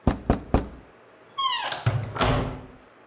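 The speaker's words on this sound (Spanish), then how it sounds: "Como ahorita, que tocaron la puerta" Knocking on a door inside a home: three sharp knocks close by, followed by a rising cat meow and a couple of duller thumps.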